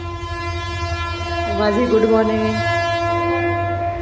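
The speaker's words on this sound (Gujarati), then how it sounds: "રેલગાડીનો તાલ આવી જાય." A train passes nearby with a steady low rumble while its horn sounds in long sustained tones, and a voice speaks briefly over it.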